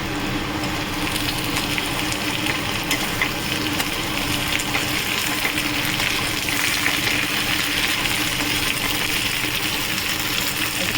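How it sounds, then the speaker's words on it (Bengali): Okra and two green chillies fry in a pan, giving a loud, continuous close sizzle with crackling that holds steady for the whole stretch. "ঢ্যাঁড়সটা দেওয়ার পরে আমি কিছুক্ষণ এটাকে আরও ভেজে নিলাম।"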